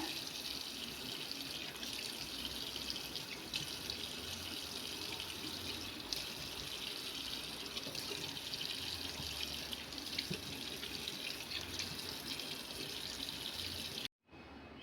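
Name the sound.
water running while washing face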